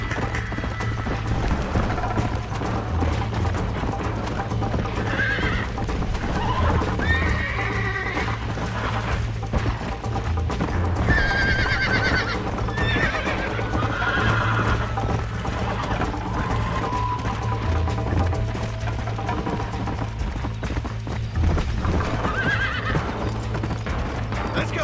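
Horse in the Red Dead Redemption video game, neighing and whinnying repeatedly over steady hoofbeats, close and loud against a constant game soundtrack drone.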